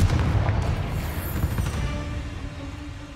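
In the Hogwarts Legacy video game, a Confringo explosive spell goes off as a loud booming blast that rumbles and fades into a dense, noisy low roar, heard alone with no speech.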